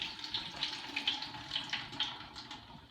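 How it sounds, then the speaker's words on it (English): Boiled potatoes drained in a kitchen, water pouring off steadily with a bright hissing splatter and small rhythmic surges, close and moderately quiet. "let's drain these potatoes"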